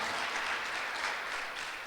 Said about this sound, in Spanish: Dale fuerte, fuerte, fuerte ese aplauso al Rey